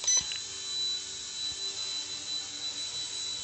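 An XK K127 toy RC helicopter in flight, its small motor and rotor making a faint, thin high-pitched whine that wavers slightly in level, with a brief click at the start.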